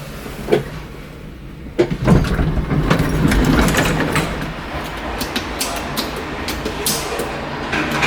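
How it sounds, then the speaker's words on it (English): Elevator door of a vintage Knudson traction elevator in a New York building slides shut with mechanical rumbling and a couple of clunks, followed by faint clicks, close by and with no talking. "The door closed."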